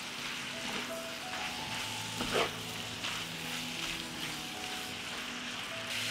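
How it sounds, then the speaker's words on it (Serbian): A kilogram of shredded sauerkraut frying with chopped bacon in a pan, an even, quiet crackling sizzle throughout with one brief louder stir near the middle, close and without speech. "Sve ću ovo promešati i pržiti."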